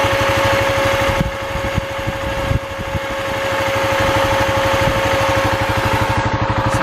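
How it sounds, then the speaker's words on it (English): A school bus radiator fan, plastic-framed and pressed onto the radiator, runs loud and close with a steady pulsing mechanical drone over the engine and a constant whine, with a couple of brief knocks early on. "It really sounds like a fan"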